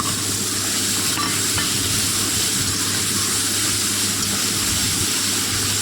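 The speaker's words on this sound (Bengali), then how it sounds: "মশলার পেস্টটা এখন ভালো করে নাড়ছি।" Masala paste with chopped onion sizzles loudly in a pan while being stirred, a dense continuous hiss and crackle with faint scraping throughout.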